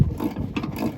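A ratchet clicks rapidly for about a second while tightening a bolt on an ARB air compressor mount on a 3rd gen Tacoma, close and mechanical.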